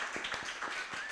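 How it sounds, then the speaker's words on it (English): Applause for Kate at a send-off gathering, a faint, thin patter of a few hands clapping with soft irregular claps over about a second, fairly distant and low in level. "So we're going to give Kate a big round of applause."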